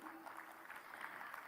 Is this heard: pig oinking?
no